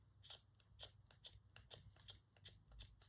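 Scissors cutting fabric for a Waldorf dollhouse doll: a quick, irregular run of about a dozen crisp snips, close and quiet, with no talking.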